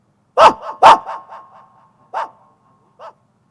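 A voice imitates a dog's barking at a folk dayro stage show in Pir Khijadiya, Rajkot: two loud woofs, then a few softer trailing yelps, and two more isolated barks after a pause.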